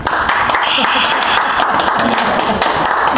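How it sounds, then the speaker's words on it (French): An audience applauding a guest at a presentation on afro cosmetics and traditional massage, a loud continuous wash of many hands clapping with voices mixed in. "Si j'ai cité Madame Lewatt, si vos applaudissements s'il vous plaît."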